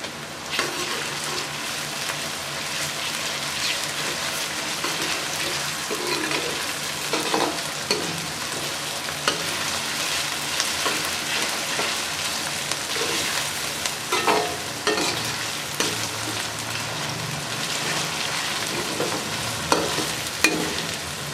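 Ginger and garlic sizzle and fry with onions in a pan, a steady loud crackle with occasional stirring scrapes throughout, no voices.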